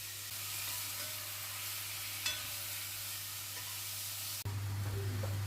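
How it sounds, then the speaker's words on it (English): Beef for a beef and ale stew fries in batches in a hot pan, giving a steady, close sizzle with a faint clink of a utensil partway through. "you want to fry your beef off in the same pan"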